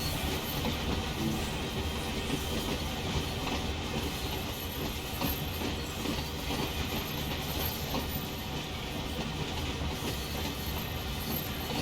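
A freight train with locomotive and caboose in Train Sim World rolls along steadily, its dense rumble, clatter and hiss filling the whole stretch at an even, close, loud level with no talk.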